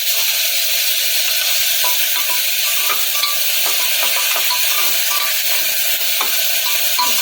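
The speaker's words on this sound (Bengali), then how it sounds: "এই অবস্থাতে আমি দিয়ে দেবো কেটে রাখা টমেটো" Chopped tomatoes hit browned garlic in a pan for one-pot rasam rice and set off a loud, dense, continuous sizzle. It stays close and even for the whole stretch, with light clicks of stirring and no voices.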